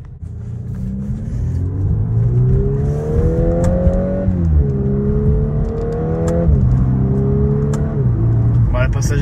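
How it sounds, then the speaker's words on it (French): A car with a DSG dual-clutch gearbox revs up through several rising engine pulls, each broken by a quick, crisp gear change. The engine sounds close and steady, with no talk. "le passage éclair de la DSG"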